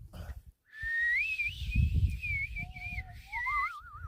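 A person whistles a wavering, sliding tune outdoors at a wild camp, with a brief pause before the warbling melody drops lower and ends in a quick trill, close and clear.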